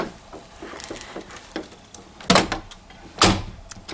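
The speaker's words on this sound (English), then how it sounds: "So I'm going to close my door." A bedroom door being closed at home: a few soft shuffles and taps, then two sharp knocking thuds as the door swings shut and latches, close to the microphone with no talking.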